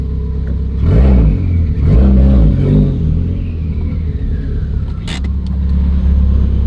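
A Subaru WRX with an engine fault revs while being driven toward a shop, the engine rising in two distinct surges before settling into a steady close, loud idle-like rumble.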